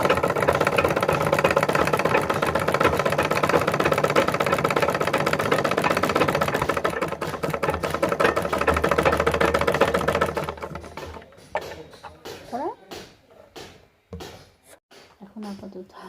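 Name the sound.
sewing machine running after fixing its drive cord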